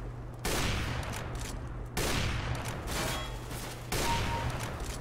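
Negev machine gun in CS:GO multiplayer, heard as three sustained bursts of rapid automatic fire, each lasting over a second and separated by short gaps, close and loud with no talk.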